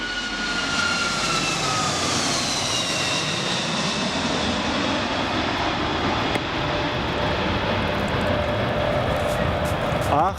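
A loud jet airplane on approach to an airport roars low overhead, a sustained whining engine drone with descending tones that fills the whole stretch, close and powerful.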